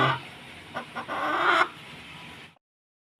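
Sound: rooster clucking

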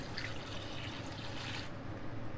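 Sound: pouring water into a pot

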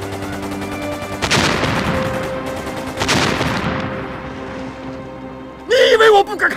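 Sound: gunshot

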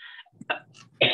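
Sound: cough

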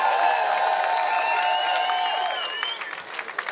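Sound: applause for boxers after three rounds

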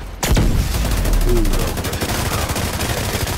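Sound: gunshots in The Division 2, a video game

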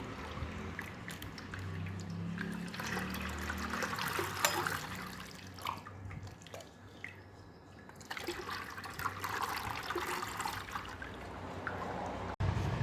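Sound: chik (colostrum) liquid being strained through a sieve

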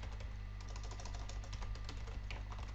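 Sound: typing on a computer keyboard

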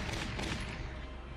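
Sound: gunshots in a video game

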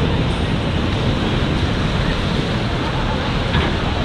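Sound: surf at Walls beach in Waikiki, Hawaii

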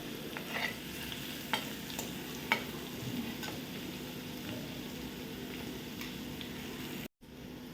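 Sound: slit green chilies and garlic sautéing in oil

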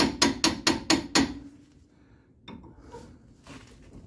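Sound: hammering a tie rod end loose on a 2010 Dodge Ram 1500

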